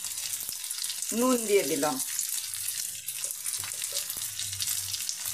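Goat meat sizzles and fries steadily in hot oil with lightly browned chilli and onion, a continuous broadband crackle that lasts throughout, while someone speaks briefly over it.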